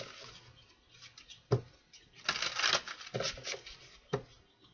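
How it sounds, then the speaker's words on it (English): A deck of tarot-style reading cards is shuffled by hand, giving soft riffling bursts and scattered sharp clicks and taps, with quieter gaps between flurries, close and alone. "Let's go ahead and shuffle these."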